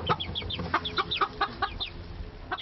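Backyard chickens clucking in quick, uneven bursts, with a run of close, chattering clucks followed by a brief lull and one last cluck, with no talking.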